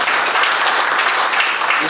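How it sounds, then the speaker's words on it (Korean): Dense, steady applause from an audience at a joint wedding ceremony in Incheon, loud and continuous for a couple of seconds. "네, 박수."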